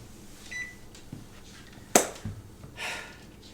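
Kitchen oven being set for a bake, a few soft clicks and a short electronic beep, quiet and close with no talking.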